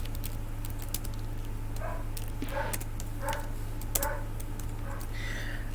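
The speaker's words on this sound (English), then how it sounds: "I apologize if you can hear my dog." A dog barks in the background in a series of muffled, distant woofs spaced about a second apart, under a steady low hum indoors.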